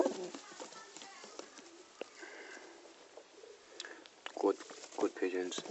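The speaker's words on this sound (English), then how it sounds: "Good pigeons. These are youngsters" Young Pakistani kabootar pigeons kept in a loft in Nottingham, UK, give soft, murmuring coos with some fluttering. The coos sound close but quiet, and someone talks over them.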